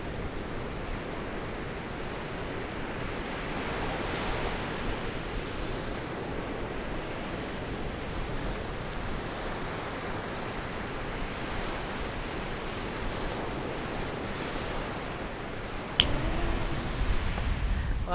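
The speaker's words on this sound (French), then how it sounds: "Ouais, mais il y a tellement de vent." Strong wind blows at the seaside in Guadeloupe, a constant broad roar mixed with surf, steady throughout with a short sharp knock near the end.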